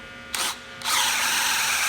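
A DeWalt DCD996 second-generation brushless drill set to speed 2 bores into hardwood: a short whirring burst, a brief pause, then a steady sustained run, close and fairly loud, with no talking.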